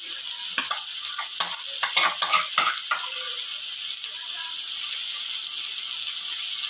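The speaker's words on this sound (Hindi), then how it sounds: "अब हम इसके अंदर मगज़ ऐड कर देंगे।" Mutton brain dropped into masala on a tawa, hissing and frying with a bright steady sizzle and a run of scraping stirring strokes early on.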